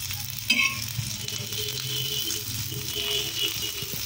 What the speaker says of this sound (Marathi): गॅस बारीकच ठेवायचा, भेंडी जळणार नाही। 2 मिनटं शिजायला लागेल।